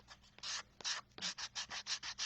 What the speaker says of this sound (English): so I'm pulling out my sanding block, like my little sander